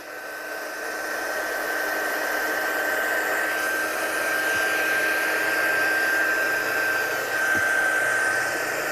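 A heat gun blows steadily at close range for the full stretch while heat setting a stamped card for watercolour work, a continuous airy whoosh with a thin whine on top and no talking.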